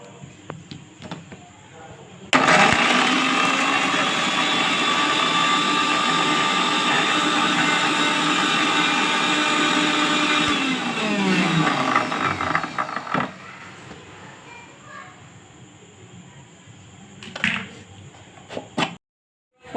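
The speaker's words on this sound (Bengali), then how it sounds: "পেঁয়াজ আদা রসুনের সঙ্গে একটু কাঁচা লঙ্কা দিয়ে ভালো করে পেস্ট করে নেব" A kitchen mixer grinder blends onion, ginger, garlic and green chili into a paste. It whirs loudly and steadily for about eight seconds, then winds down, followed by rattling as the jar is handled.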